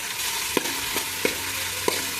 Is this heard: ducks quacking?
no